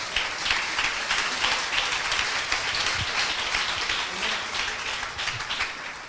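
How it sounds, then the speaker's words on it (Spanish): A church congregation applauds together, a steady dense wash of clapping that carries evenly through the whole stretch with no voices above it. "Un aplauso fuerte al Señor."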